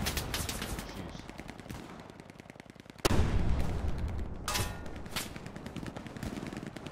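Rapid automatic gunfire from the Hell Let Loose video game battlefield, with dense bursts of machine-gun and rifle shots building into a louder, sustained volley partway through, alone without voices.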